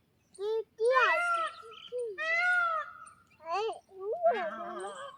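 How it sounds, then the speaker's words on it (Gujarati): Outdoors near a pond, a peacock gives a series of loud, nasal, wailing calls in several drawn-out bursts with short gaps, close by and clear over a quiet background. "મોર બોલ્યો."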